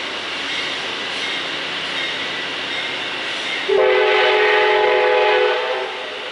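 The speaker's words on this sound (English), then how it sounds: "There goes the train." Steady rumble of a train with a loud, sustained horn blast entering partway through and holding for a couple of seconds before fading.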